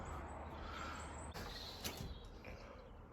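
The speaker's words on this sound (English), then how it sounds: "And the door swings." A small hinged door on a boat's stern deck swings open with a faint, brief creak against a steady background hiss.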